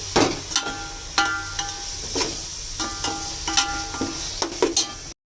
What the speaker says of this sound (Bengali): এখন খুব ভালো করে কষিয়ে নেব